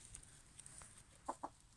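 Two roosters, one white and one ornamental, give a couple of short soft clucks close by amid faint farmyard background.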